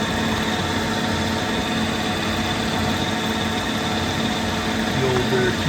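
Lapidary 220 grit wheel running while a cabochon is shaped on it, a loud, steady whirring drone with constant motor hum and grinding texture that holds evenly throughout.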